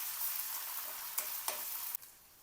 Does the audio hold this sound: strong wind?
no